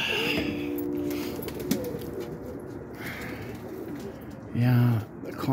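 Pigeons coo in a loft of kept spinner birds, with a deep, rounded coo standing out loudly near the end over a steady bed of outdoor background noise and soft bird calls.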